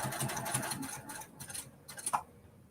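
A home sewing machine stitching a small quilt, a fast, fairly quiet mechanical whir with brief pauses and a few bursts near the end as the fabric is lifted and turned.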